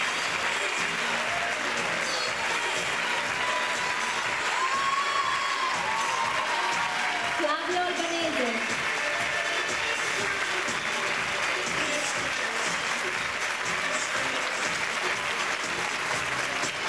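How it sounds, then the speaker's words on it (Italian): Sustained applause from a large audience at a dance recital, dense clapping that holds steady for the whole stretch, with faint cheering mixed in. "non può mancare un grandissimo applauso"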